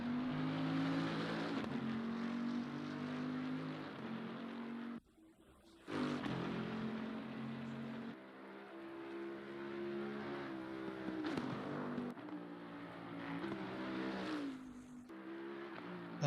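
A race car engine in Assetto Corsa Competizione at Spa howls loudly and continuously, pitch climbing and dropping through repeated gear shifts with a couple of abrupt lifts off the throttle.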